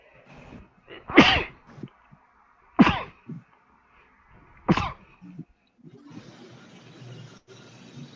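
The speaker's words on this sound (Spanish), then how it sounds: "Otra vez que me van a estornudar." Three loud, sharp sneezes spaced a couple of seconds apart during a mathematics class, each followed by faint sniffing, then a soft steady hiss; no speech.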